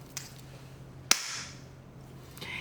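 A modern pressurized injection pen with European pressurization fires once, a single sharp snapping crack in an otherwise quiet room, with a fainter click before it.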